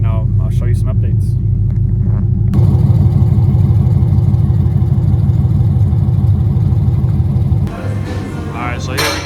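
A 6.4 Hemi Scat Pack with a stage 1 cam idling, its loud, steady, lumpy low rumble running throughout, with some brief background noises early on and a slight drop in level near the end.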